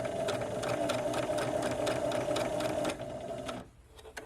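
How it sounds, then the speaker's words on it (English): A Huskystar 224 sewing machine stitches a medium-width zigzag with a steady close motor hum and fast regular needle ticking, then slows and stops near the end. "See how the needle bounces left to right to make that zigzag?"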